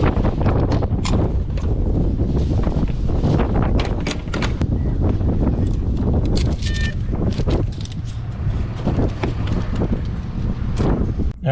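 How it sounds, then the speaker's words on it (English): Gusty wind buffets a microphone at a busy gas station pump, a loud continuous low rumble with scattered knocks and clatters over it, and no voices. "Wind starting to blow."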